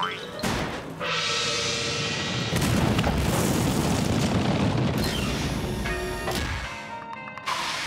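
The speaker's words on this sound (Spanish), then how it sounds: "¡Deprisa! ¡Que entra en erupción!" A cartoon volcano erupts with a deep rumbling boom that swells and rolls for several seconds, framed by sharper bursts and musical stabs before and after.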